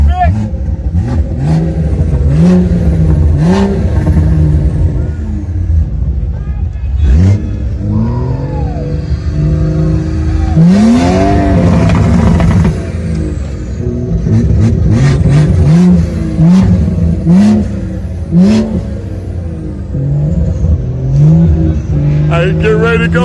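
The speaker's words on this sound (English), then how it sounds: "that BMW get ready to go in this hole" A BMW revs hard in a legal burnout pit at a street car event, its engine loud and close, climbing and falling through repeated throttle blips while people shout and talk over it.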